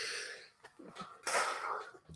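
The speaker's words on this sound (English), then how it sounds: "About to sneeze." A single sneeze bursts out after a wheezy, sharp intake of breath, close and fairly loud.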